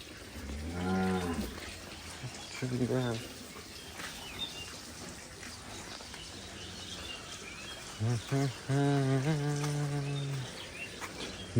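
Cattle on a farm moo several times, with two long low calls at the start and another pair near the end. Birds and insects are faint in the background, and a person talks between the calls.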